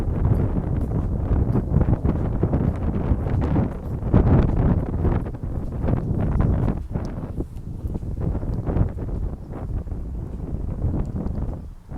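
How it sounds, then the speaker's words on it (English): Strong wind buffets the microphone in a park, a constant heavy low roar with gusts swelling and easing, loud and close, with no one speaking. "So Salakia, the wind's blowing like crazy."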